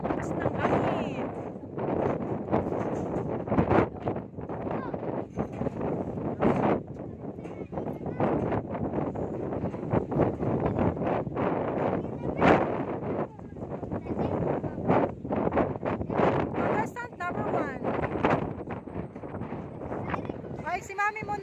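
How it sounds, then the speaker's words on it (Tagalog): Strong wind buffeting the microphone outdoors, constant rough roar with repeated gusty bursts, while people talk intermittently through it. "Lakas ng hangin."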